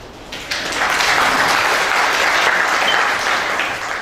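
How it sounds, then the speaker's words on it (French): Conference audience at a gathering on local languages breaks into applause, clapping swelling quickly after a quiet start into a full, sustained roar of many hands that stays loud to the end. "que vous applaudissiez une fois de plus."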